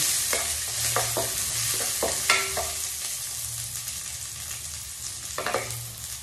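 Onion fries in a pan for beef and shrimp pancit canton, with a soft continuous sizzle and a utensil scraping and tapping against the pan in scattered clusters, fairly close.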